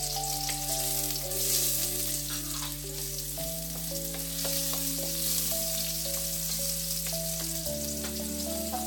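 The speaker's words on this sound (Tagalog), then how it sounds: "igigisa lang natin yung ating bawang, garlic" Garlic sautés in a hot pan with a steady close sizzle and occasional stirring scrapes, while music plays along underneath it and no one talks.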